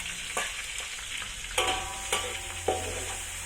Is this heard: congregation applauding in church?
no